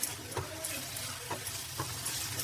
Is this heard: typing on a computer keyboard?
no